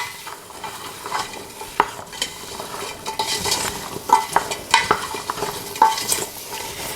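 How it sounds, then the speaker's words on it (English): Dried basil and sautéed vegetables get stirred in a soup pot for tomato soup, a soft continuous sizzle broken by repeated spoon scrapes and light metallic clinks against the pot, moderately close with no talking. "and begin to stir"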